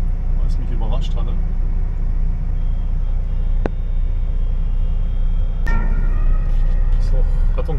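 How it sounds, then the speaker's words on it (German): An ambulance siren passes along a busy road, rising over steady traffic rumble, heard from a truck cab, with talk carrying on underneath. "Rettungswagen mit unterwegs"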